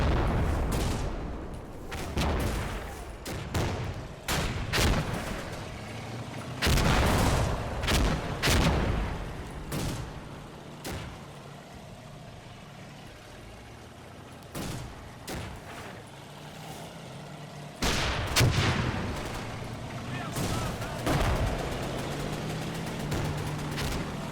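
Tank battle against German tanks, including a Panther, in a war game set in the Canadian fight for Verrières Ridge: loud, close cannon shots and booming blasts fire in irregular bursts over a rumbling background, with no voices.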